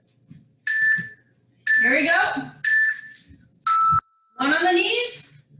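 An electronic workout interval timer at a bodyweight bootcamp class gives five loud, sharp beeps in an uneven sequence, each lasting about half a second to a second, with a voice speaking briefly between them.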